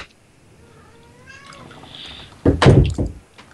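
Cat in Minecraft, a video game: a thin, rising meow followed by a louder, close burst of cat cries, over a quiet game background.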